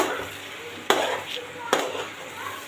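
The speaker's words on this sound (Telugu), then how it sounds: "ఇప్పుడు ఈ రైస్ ఇందులో వేసేసి ఫ్రై చేయాలా? ఫ్రై చేయాలన్నమాట బాగా." Rice being fried in a pan for dum biryani, with a steady broadband sizzle and two sharp stirring scrapes from a spoon against the pan, close and moderately loud.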